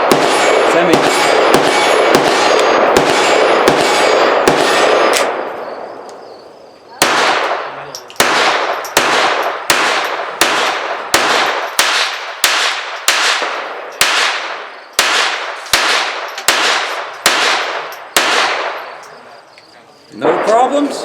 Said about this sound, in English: So why don't we take it out to the range and see how it shoots?